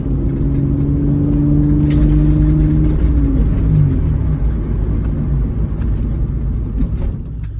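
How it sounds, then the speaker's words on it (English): Mitsubishi 3000GT with its sound deadening removed, driven over a gravel section in third gear; a loud, close engine drone with steady harmonic tones that shift as speed changes, over constant rumbling road and gravel noise. "let's hit the little gravelly section here and see what happens. I'm gonna go ahead and keep her in third."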